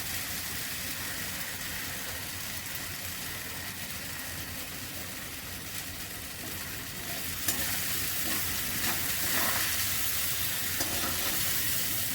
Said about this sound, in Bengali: মশলাটা হয়ে গেছে ভাজা